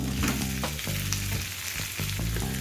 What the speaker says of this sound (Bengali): এবার আলুটা তো একটু ভেজে নেবো